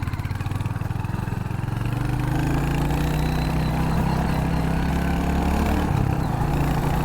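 Royal Enfield Hunter 350 single-cylinder engine thrumming steadily while riding on a road, a loud, continuous low rumble with pitch rising slightly as the bike pulls along, no talking.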